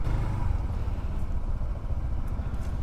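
A Honda ADV 160 scooter rumbles close by as it is ridden up onto a sidewalk, its low engine note steady and unbroken with a slight clatter over the top.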